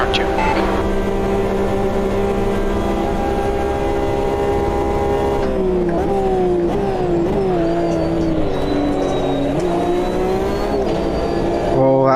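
Race car engines roar loud and steady in the Automobilista 2 racing game, a World Endurance Championship (WEC) career race with a car running in another's slipstream, and the pitch shifts as the car changes gear while a voice talks over it.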